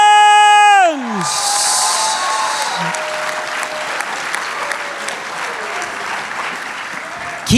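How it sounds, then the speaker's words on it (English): A convention crowd at Tampa Bay Comic Con bursts into loud applause and cheering for Billy Dee Williams right after a brief electronic musical sting, sustained dense clapping filling the hall. "Keep clapping."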